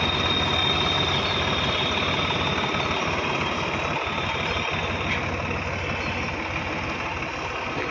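Decorated tractor serving as a Republic Day parade float idling steadily, a continuous low engine drone with mechanical rattle, close and unchanging throughout.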